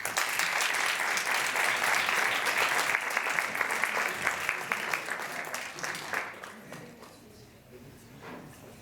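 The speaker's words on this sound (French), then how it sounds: "Acclamons-les." An audience at a 2011 pleading competition applauds the two finalists, a dense, loud burst of clapping that holds steady for about six seconds, then thins into scattered claps and fades out.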